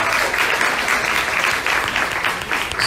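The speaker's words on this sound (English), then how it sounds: "let's give Sarah a big round of applause again." Audience at an event applauding, a dense, sustained burst of clapping heard close and loud throughout.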